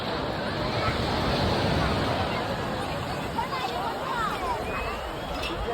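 Bay of Bengal surf at Tiruchendur beach rolls in a continuous broad wash, with wind buffeting the microphone and a crowd babbling nearby.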